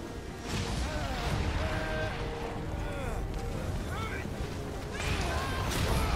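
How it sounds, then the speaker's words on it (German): Loud stormy wind roars continuously in the Guardians of the Galaxy video game, thick and rushing with crashing impacts and game effects layered over it, and a voice talks over it in places. "Okay, dieser Wind ist echt."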